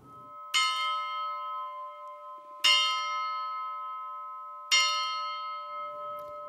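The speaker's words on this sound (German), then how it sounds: "Und hier läutet die Glocke." Three loud strikes of a large church bell in Passau Cathedral, each a sharp clang followed by a long ringing decay, spaced about two seconds apart with no other sound.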